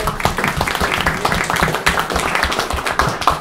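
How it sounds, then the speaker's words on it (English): An audience claps at the close of a talk on Korean history and politics, a dense, lively patter of many hands sustained throughout. "Just a round of applause to Roland for all of that"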